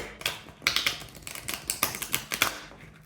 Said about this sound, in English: You can hear it by the sound they produce when I shuffle like this